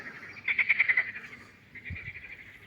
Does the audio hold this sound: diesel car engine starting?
no